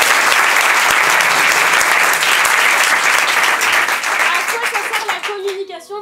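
Loud, dense audience applause fills the space after an improv solo show at a festival, sustained and then thinning out toward the end as a voice begins speaking.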